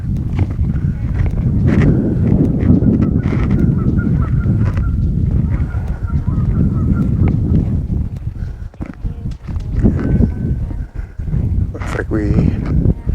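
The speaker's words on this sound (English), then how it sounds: "Some bird activity." Geese honk repeatedly, loud and close, in a nature preserve in Evesham, New Jersey, after recent rain, over a constant rustle of movement and scattered thumps, with a few sharper calls toward the end.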